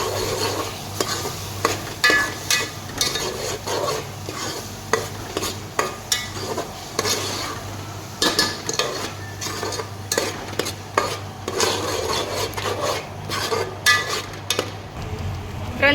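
Onion paste stirred in a pan while cooking desi corn sabzi, a soft steady sizzle under repeated sharp scrapes and clinks of a spoon against the pan, close and continuous throughout.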